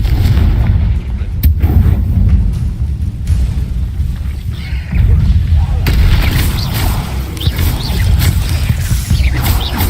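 A Confringo blasting spell explodes in the Hogwarts Legacy game, loud booming bursts with rumbling crackle, a sharp hit near the start and another blast partway through, over a continuous low roar and some game speech.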